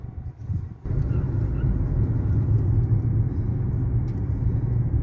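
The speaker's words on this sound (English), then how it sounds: "So, driving through the city" A car drives through a city with a steady low engine and road rumble from inside the cabin, starting with a sudden rise in level and holding constant.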